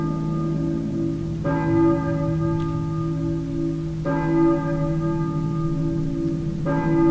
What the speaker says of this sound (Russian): Я слышу, думаю, это церковный колокол